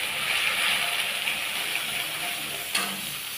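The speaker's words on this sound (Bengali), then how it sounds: "এইবার আমি যে আদা টুক আর টমেটোটা যেটা পিষে নিয়েছিলাম সেইটা এর মধ্যে দিয়ে দেবো, দিয়ে আমি ভালো করে কষাবো।" Ground ginger and tomato paste frying in a pan with stirring for a Bengali coconut chana dal, a loud continuous sizzle with a sharp utensil scrape near the end.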